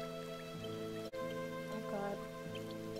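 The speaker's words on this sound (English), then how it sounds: "it's raining now?" Steady patter of rain falls across the scene alongside soft music in the video game My Sticker Book, with a brief sharp dropout midway; no one speaks.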